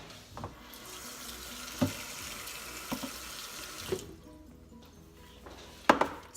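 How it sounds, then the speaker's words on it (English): Tap water runs steadily into a pan holding squash placed upside down, with a few sharp knocks and splashes along the way and a louder clatter near the end, close and clear with no talking. "and then I add water"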